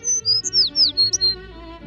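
Several high, thin bird chirps and whistled tweets in a quick, uneven series, fairly close and clear over a soft low background hum.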